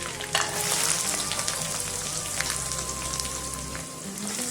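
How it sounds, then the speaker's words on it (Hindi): Cumin, garlic and onion frying in a pan: a steady loud sizzle and crackle with some stirring, continuous throughout and with no talk. "2 मिनट में फ्राई कर लेंगे।"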